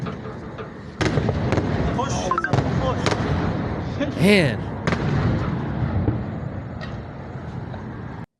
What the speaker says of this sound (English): Like, these explosions are loud.